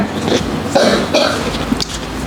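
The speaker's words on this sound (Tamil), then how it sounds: "அவருக்கு இருமல் இருக்கு அதிகமாக" A person coughs several times in short bursts, fairly close, with a throaty, rough edge and brief pauses between coughs in a room during a workshop.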